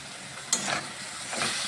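Spoon stirring a banana flower mixture with sauce, mustard and sambar in a pan, two short scraping swishes over a soft sizzle, close and alone.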